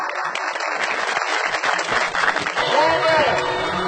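Loud applause from an audience at a PTI workers' political convention, dense continuous clapping filling the whole few seconds with a brief whistle-like tone near the end.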